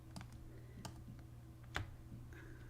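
A computer keyboard is typed on in a few light, scattered clicks, quiet and close over a faint steady hum.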